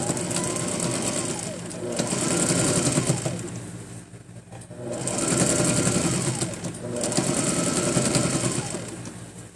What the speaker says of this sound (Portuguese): Aí eu aumento a tensão pra costura ficar mais bem feitinha